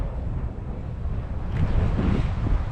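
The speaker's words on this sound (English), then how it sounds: "So it's windy as shit here" Strong wind roars and buffets the microphone in heavy gusts on the Pacific Crest Trail near the aqueduct, a loud, rumbling rush that swells toward the end, with no talking.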